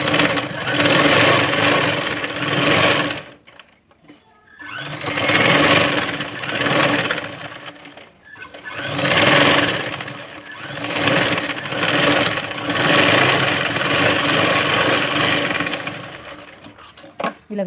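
A sewing machine runs a second line of stitches along a dress, humming loudly in long continuous passes broken by brief stops, close and alone.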